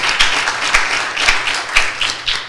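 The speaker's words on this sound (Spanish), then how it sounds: "Denle un fuerte aplauso al Señor." During a church sermon, the congregation claps loudly in a rhythmic burst, with strong accented claps about every half second over a layer of looser clapping.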